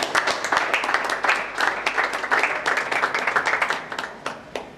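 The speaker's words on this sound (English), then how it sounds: "Please, a round of applause for this." Audience at a producers' general meeting breaks into a burst of hand clapping, loud and dense, with sharp individual claps in a steady patter across the whole stretch, no voices over it.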